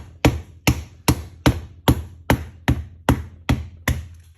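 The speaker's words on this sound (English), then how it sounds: "I'm just smacking it just to plasticize it, to soften it out slightly before I put it into the dough" Cold butter block for lamination struck about ten times in a steady rhythm, each a close, sharp thwack with a quick decay, alone with no talk.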